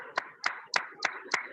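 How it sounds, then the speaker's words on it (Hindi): Five slow, evenly spaced hand claps from a small group welcoming participants to an online coding class session, close and fairly soft, with no voices. "आपका तालियों के साथ स्वागत करें।"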